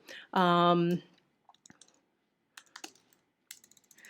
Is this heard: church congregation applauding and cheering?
no